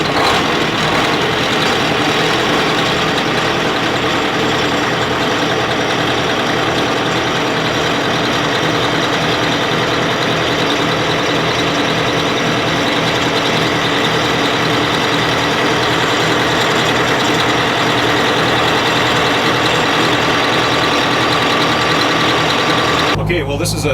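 Detroit diesel engine of a 1991 Tollycraft 61 motor yacht idling steadily with a loud, constant low rumble throughout, ending in a brief clunk near the end.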